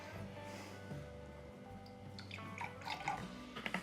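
A small splash of apple juice poured into a vessel while brewing cider, a soft trickling stream under a low hum, ending in a few bright drips and gurgles.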